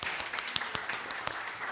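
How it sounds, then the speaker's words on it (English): A small audience at a public relations program presentation gives a round of applause: faint, scattered claps in a sparse patter, heard at a distance. "Please give a round of applause for her."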